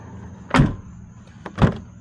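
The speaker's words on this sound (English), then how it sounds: "Let me just close the door," A Jeep Wrangler door thuds shut up close, then a second solid door clunk lands about a second later, each with a short rattling burst; no talking.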